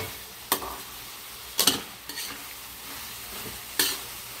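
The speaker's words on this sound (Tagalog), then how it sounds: "At ngayon ilalagay na rin natin itong ating ham para lumasa siya ng husto." Ham dropped into a frying pan while making carbonara, a low steady sizzle punctuated by four sharp scraping stirs of a utensil against the pan, with no voices.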